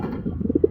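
A large pigeon coos close by, a short run of soft, low, rising coo notes repeated in quick succession and growing slightly stronger.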